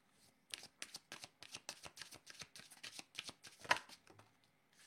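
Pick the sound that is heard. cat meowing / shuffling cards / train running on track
shuffling cards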